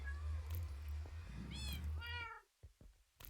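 Several cats meow in a short burst, high rising and falling cries over a steady low hum, then a brief quiet gap before a faint closing sound.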